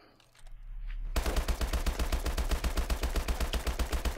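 Sustained automatic gunfire from Call of Duty: Advanced Warfare erupts after a brief quiet lead-in, a loud, close, rapid stream of evenly spaced shots that continues without pause.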